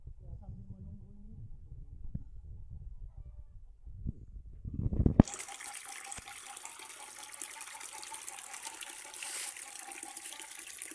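Backwash water pours out of a drinking-water depot filter tank, a loud, steady rushing flow that starts abruptly partway through after a quieter stretch of faint sounds and talking.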